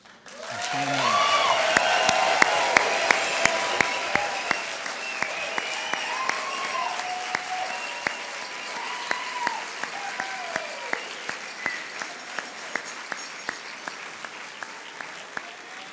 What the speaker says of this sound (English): I would ask all of tonight's honorees to stand and be vigorously and loudly applauded.